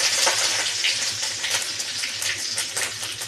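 Curry leaves hit hot oil in a pan while a meal maker gravy is being cooked, giving a steady bright crackling sizzle close by, with no talk over it.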